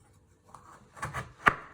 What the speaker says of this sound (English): After when you have peeled your carrot, you chop it in half